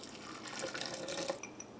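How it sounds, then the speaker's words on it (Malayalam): Water is poured into a coconut chutney mix of curd, green chili, ginger and grated coconut ready for grinding, a quiet, close trickling splash with small drips and no talk. "ഇതിലേക്ക് നമുക്ക് ആവശ്യത്തിന് വെള്ളം ചേർക്കാം,"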